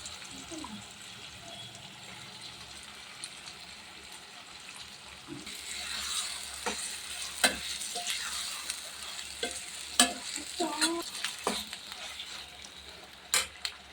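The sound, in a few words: mutton frying and being stirred in a pan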